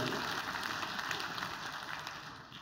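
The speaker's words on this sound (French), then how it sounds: "on peut applaudir les 5 qui l'ont dit" A conference audience applauding: steady, dense clapping through the whole stretch, fairly distant and fading slightly toward the end.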